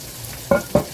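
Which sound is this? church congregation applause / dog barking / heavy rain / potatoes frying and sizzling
potatoes frying and sizzling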